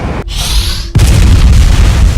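Rocket launcher explosion in a deathmatch video game: a sudden launch whoosh followed by a loud, heavy boom that rumbles on for over a second.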